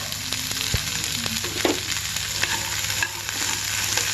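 Tempering spices and ginger pieces fry in a pan for ajwain rice, producing a steady close sizzle punctuated by stirring clinks and scrapes throughout.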